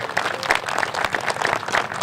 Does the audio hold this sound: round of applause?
yes